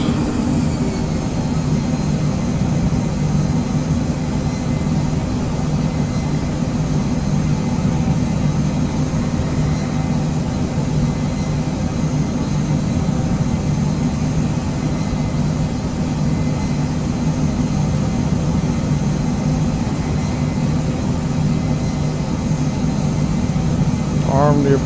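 Phenom 100 business jet coming in to land near Key West in a flight simulator, a steady loud jet engine roar with broadband rumble holding constant throughout, with a voice talking over it.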